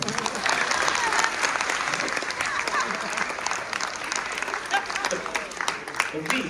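After a magic show, an audience breaks into sustained applause: a dense, steady wash of many hands clapping, fairly loud and continuous, with voices mixed in underneath.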